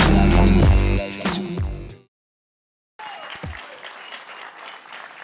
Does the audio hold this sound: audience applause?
yes